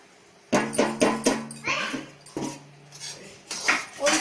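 Cashews and milk powder being stirred into thick sugar syrup in a kadhai for kaju katli, with a spoon knocking and scraping rhythmically against the metal pan, close and fairly loud, in quick repeated strokes.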